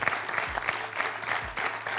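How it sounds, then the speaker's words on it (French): A television quiz-show studio audience, on Questions pour un champion, bursts into steady applause, a dense wash of many hands clapping at fairly close range that carries on without pause through the whole stretch. "On peut l'applaudir, Marie-Annick"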